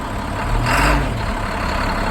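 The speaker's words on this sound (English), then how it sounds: "tap the accelerator and tug against my parking brake" A Class B truck's engine revs briefly as the accelerator is tapped against the set parking brake, a loud low rumble swelling and easing over a steady idle, heard alone.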